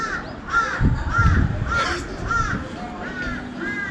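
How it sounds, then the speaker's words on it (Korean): Several crows caw repeatedly outdoors at a rooftop urethane waterproofing site, calls coming in a steady series of harsh, moderately loud bursts over low background rumble. "까마귀가 많아."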